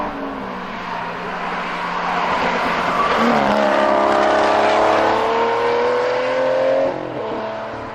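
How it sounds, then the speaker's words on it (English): V12 supercar engine with 592 brake horsepower revving hard, a loud, rising engine note that climbs in pitch and holds, then drops off near the end, with some tire noise mixed in. "V12 engine up front and with no less than 592 brake horsepower"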